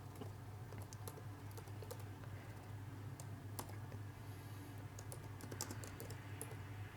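Steady, quick clicking of keys on a computer keyboard, faint and close, with brief uneven pauses between bursts.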